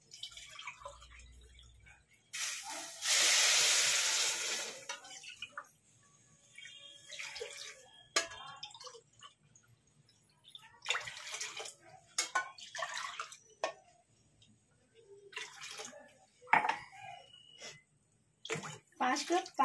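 Water gushes in a strong splashing stream into a pot for sugar syrup for about two seconds, then drips and small clatters of kitchenware follow at close range.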